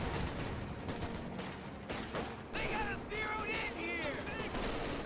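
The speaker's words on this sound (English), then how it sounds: "the lieutenant is up close with that submachine gun. With the rat-a-tat-tat" Submachine gun fire in the WWII strategy game Company of Heroes 2, dense crackling gunfire and battle noise throughout, with a caster talking over it.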